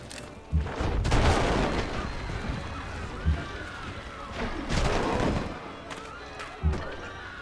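Cannon fire in a Civilization 5 American Civil War scenario, with horses: several deep booming thumps spaced a few seconds apart over a continuous rumbling battle din.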